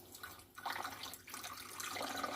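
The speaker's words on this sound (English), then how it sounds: "So all I've got is a measuring jug, so I'm just going to pour" Water poured slowly from a measuring jug into an aquarium, a soft continuous trickle and splash that swells slightly as the pour goes on, fairly quiet and with no voices.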